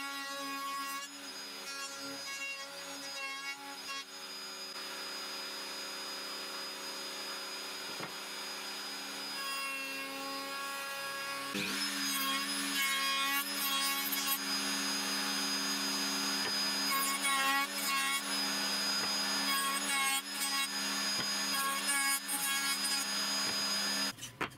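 An improvised router table mills one edge of plywood offcuts into an oval profile, a steady loud motor whine with tonal harmonics that rises in pitch and roughness partway through as the cutter bites the wood.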